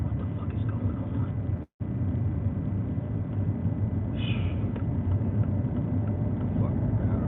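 A car drives along a rough, rundown road, its steady low rumble and road noise filling the whole stretch, with one brief dropout near the start.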